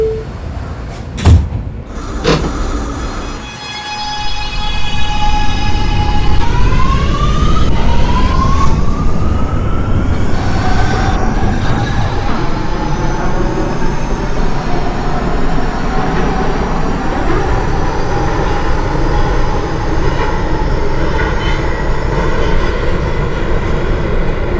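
A Brooklyn-bound C local subway train, an R211T in the OpenBVE simulator, pulls away with a rising motor whine and steady loud rumbling, after an electronic door chime at the start.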